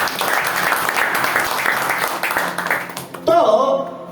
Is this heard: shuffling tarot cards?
no